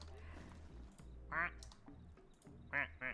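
Rubber duck quacks from the video game Placid Plastic Duck Simulator, two or three short nasal quacks heard faintly under a low game hum, with speech-like bits around them.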